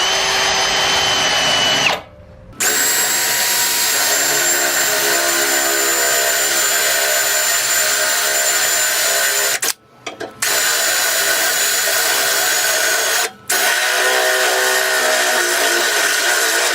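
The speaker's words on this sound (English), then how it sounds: "So now to drill this hole, all I'm going to use is a step bit." A power drill with a step drill bit runs steadily, the high whining bit grinding through material as it drills a hole, pausing briefly three times before starting again; no voices.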